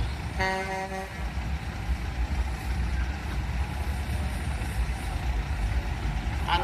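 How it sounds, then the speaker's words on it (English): A 1977 AEC Marathon lorry drives past at a steam rally with a deep, rumbling diesel roar close by, opening with a short horn toot, while the crowd murmurs faintly in the background. "that's followed by a 1977 AEC Marathon lorry"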